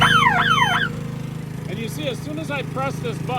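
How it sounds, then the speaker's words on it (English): A boom lift's outrigger pressure warning alarm sweeps up and down loudly over the running engine, then stops while someone talks over the engine's steady drone. "you can hear the alarm going off."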